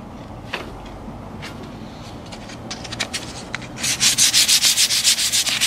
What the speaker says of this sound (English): you want to be really careful with sanding on the side